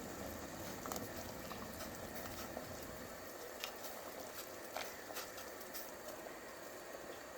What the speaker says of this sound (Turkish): Hazır olan hingellerimizi haşlanması için yavaş yavaş suyumuza bırakıyoruz.